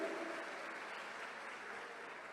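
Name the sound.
church congregation applauding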